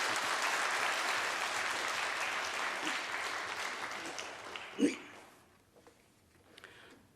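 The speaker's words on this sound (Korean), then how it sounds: "우리 보내주신 하나님께 감사의 박수 함께 올려드리겠습니다" A church congregation at a Wednesday worship service gives warm applause of thanks to God. The clapping starts full and steady, then fades out to near silence with a few faint sounds.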